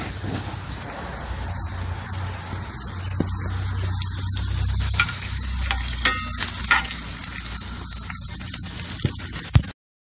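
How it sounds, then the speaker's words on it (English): Onions and flank steak for fajitas sizzle on a hot griddle in a continuous bright hiss, with occasional spatula scrapes and taps, close and fairly loud, ending abruptly. "we put some onions on over here, getting these nice and soft"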